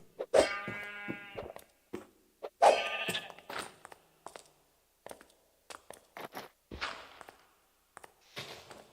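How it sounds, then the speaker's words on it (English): A sheep bleats several times in wavering cries in the video game Minecraft, separated by quieter clicks and soft footstep-like taps, with no talking. "Why is there a random sheep in here?"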